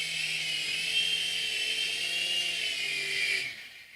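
A small remote-controlled toy helicopter hovers close by with a steady high-pitched whine of its rotor and motor, holding constant for several seconds before cutting off abruptly near the end.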